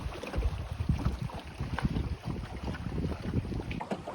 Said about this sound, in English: Now I have to go back against the wind, which will be much more difficult.